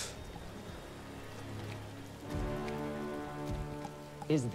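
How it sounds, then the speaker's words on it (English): Rain falling in Star Wars Jedi: Fallen Order, a steady soft patter under a layer of sustained in-game music tones, with a few brief sharper sounds near the end. "Look at the rain dripping off her helmet."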